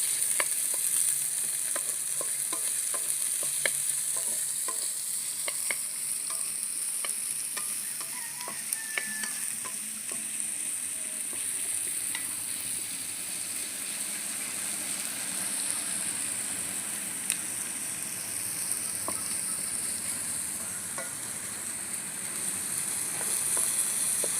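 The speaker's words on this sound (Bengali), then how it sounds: "পেঁয়াজ আদা রসুনটা হালকা করে ভেজে নিয়েছি" Onion, ginger and garlic fry in oil in a clay pot for a chicken curry, a steady close hiss of sizzling with occasional stirring scrapes and clicks and no talking.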